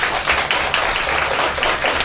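A small group in a studio claps together as a show-of-hands style vote, a steady dense patter of hand claps lasting about two seconds with no talking.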